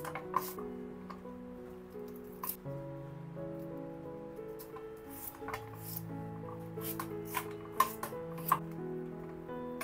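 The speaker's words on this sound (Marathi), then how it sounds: "कांदा आता इथे मी चिरून घेते।" A knife chops onion into medium pieces, making scattered sharp taps against a board, some in quick bursts, over steady background music.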